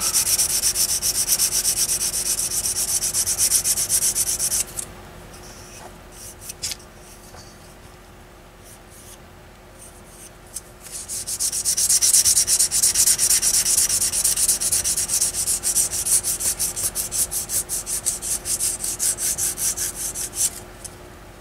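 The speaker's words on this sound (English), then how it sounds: "Buff those scratches out. You can see them disappear on there." Buffing and sanding scratches out of a B-47 Stratojet scale model, a steady close abrasive rubbing that runs loud, drops quieter in the middle, then returns strong and rhythmic.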